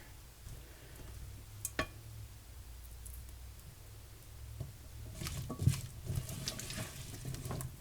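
Breakfast burrito filling fries in a pan while being stirred, a soft sizzling patter punctuated by scraping clicks that grow busier toward the end.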